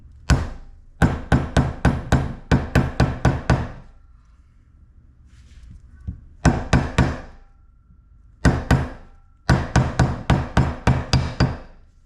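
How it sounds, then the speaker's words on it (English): A 36 mm socket hammered onto a Ducati 916/996/748 clutch cover seal: bursts of sharp, evenly spaced metallic blows, five to seven per run, with short quiet pauses between runs and no talking. "I'm going to try and get a socket that's exactly this diameter and hammer this"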